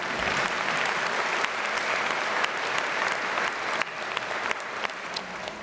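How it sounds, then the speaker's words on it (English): An audience applauds at a law school diploma ceremony, a full, continuous crackle of many hands clapping with scattered louder claps standing out, no speech over it. "You can clap for that, by the way."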